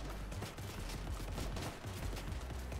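Continuous, dense video-game gunfire crackles in rapid bursts, a fairly quiet but steady barrage with no talking.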